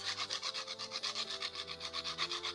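Lemon zest is grated for Danish æbleskiver batter in a steady series of rhythmic rasping strokes, close and clear, with a faint tonal hum of background music underneath and no talking.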